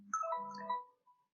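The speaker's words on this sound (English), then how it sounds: "Excuse me, that was my phone." A mobile phone ringtone goes off during a maths lesson on dividing algebraic expressions: a short melodic electronic ring of bright stacked tones, lasting about a second, then a faint final note, moderately quiet and with no talking.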